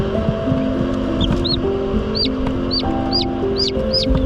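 Newly hatched chicks in a brooder give repeated short chirps close by, peeping at a steady pace over a low background hum.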